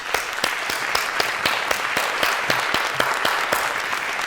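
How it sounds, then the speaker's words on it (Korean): A congregation applauds during a Sunday church service. Close, sharp individual claps stand out over a steady wash of clapping that lasts throughout. "우리 그 신주원 목사님에게 한번 힘차게 박수해 주시길 바랍니다."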